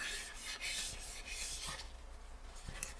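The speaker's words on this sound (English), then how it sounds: "And now we're going to wipe off the excess." Cloth rubbing steadily over a refinished GBD billiard briar pipe bowl to wipe off excess finish, a close, soft, continuous rasping swish.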